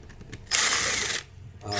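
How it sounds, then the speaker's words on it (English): A power tool whirs in one loud, steady burst of under a second, starting and stopping abruptly, used on a cheap Amazon SCX10 II RC transmission with reversed output; quiet handling sounds come before and after. "Let me get some power tools."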